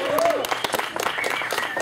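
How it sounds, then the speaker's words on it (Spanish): Live-band concert applause for the drummer, a crowd clapping and cheering with a shouting announcer's voice over it and instruments briefly sounding through. "Un aplauso para el Simba en la batería."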